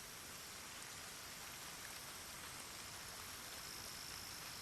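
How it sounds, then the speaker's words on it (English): Steady rain pours down across the whole clip, a dense even hiss with no voices. "There's just rain."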